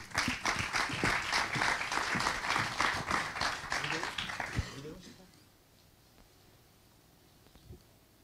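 Audience applause at the MIT Technology Review TR35 France launch event, a burst of many hands clapping that is loud and dense for several seconds, then fades out to near quiet.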